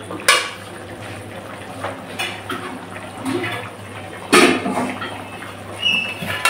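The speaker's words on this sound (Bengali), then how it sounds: "এবার নেড়ে ছেড়ে ঢাকনা দিয়ে দেব।" A spoon stirring dal in a metal pot, with scattered clinks and scrapes against the rim, then a sharper clatter like a lid going on, all under a low steady hum.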